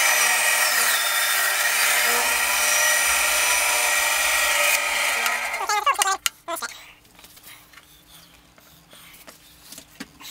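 Wood saw cutting into a wooden pen blank for a Celtic knot pen, a steady close rasp for about six seconds that stops abruptly, followed by a few light knocks and handling sounds.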